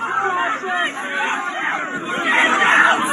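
A small leftover crowd at a Calgary protest chatters at close range, a dense, fairly loud babble of overlapping voices with no single speaker standing out.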